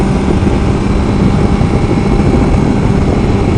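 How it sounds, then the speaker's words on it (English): A steady, loud engine drone runs throughout, rough and continuous like a Honda Nighthawk S motorcycle idling close by, with no voices over it. "This is a very sporty motorcycle."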